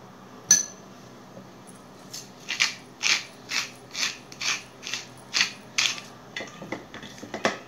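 A pepper mill grinds in a steady series of about a dozen short, gritty twists, close and fairly quiet, with no talking.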